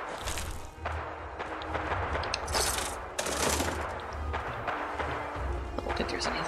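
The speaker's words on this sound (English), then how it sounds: "I hear the gunfire in the distance" Gunfire crackles in the Fallout 4 wasteland as a dense, continuous fusillade of rapid shots, like machine-gun bursts, over a steady low rumble for several seconds.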